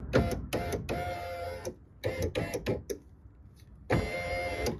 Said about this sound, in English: turn the car on and double check that the motor is running